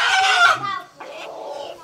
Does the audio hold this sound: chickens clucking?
yes